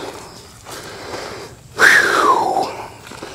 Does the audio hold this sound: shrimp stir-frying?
no